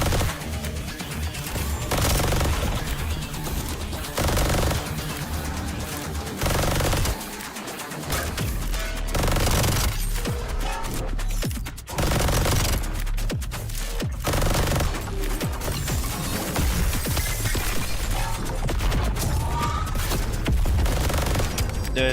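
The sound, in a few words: gunfire in The First Descendant video game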